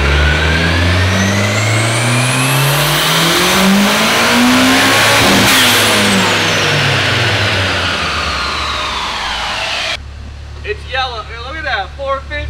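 A Nissan S15 engine revs hard on a dyno, loud and close, its pitch climbing steadily toward the rev limit before cutting off abruptly, after which people talk excitedly.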